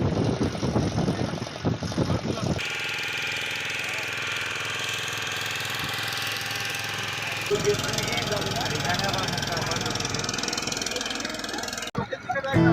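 A motor boat engine drones steadily through an 18-kilometre journey across Chilka lake, a loud continuous rumble that shifts in tone partway through, with a voice speaking over it at times.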